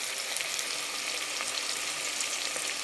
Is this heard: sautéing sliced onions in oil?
yes